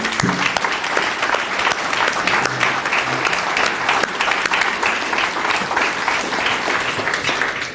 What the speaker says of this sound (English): please give them a round of applause for me